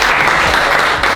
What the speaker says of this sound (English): Everyone give Jared a round of applause.